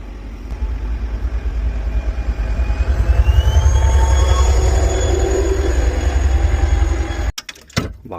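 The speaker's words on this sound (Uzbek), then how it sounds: "Kelyapti poyezd." A train passes at a railway crossing where excavators are being moved over the rails. A loud, close, steady rumble of wagons rolls by with faint squeals from the wheels, then the noise drops off sharply near the end.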